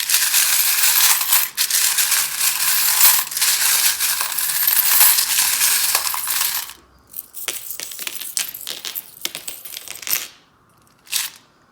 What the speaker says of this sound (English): So I'm going to put your charms on top now, and then we'll do your dice.